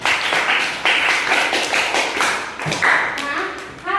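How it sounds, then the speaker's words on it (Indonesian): Students in a classroom clapping together, a short round of rhythmic applause with distinct hand claps, close and fairly loud, mixed with voices. "Beri aplaus untuk kalian semua"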